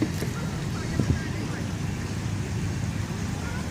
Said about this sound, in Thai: ลมแรงนิดหนึ่งขออภัยนะเพื่อนนะ